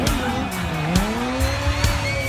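A stunt motorbike brakes hard at a show, its tire skidding and squealing loudly over a droning engine, with sharp clicks and pops breaking through, close and continuous.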